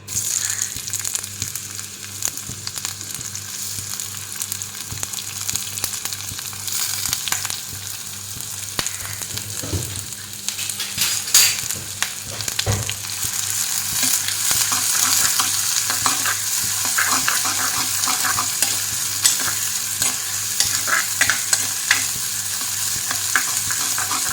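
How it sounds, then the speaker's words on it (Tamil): Onions fry in hot oil in a pan for a goat trotter curry, a steady bright sizzle with frequent stirring scrapes and clatters, close and continuous throughout with no voices. "இப்போ நான் எண்ணெய் காஞ்சிடுச்சு, வெங்காயம் போட போகிறேன்."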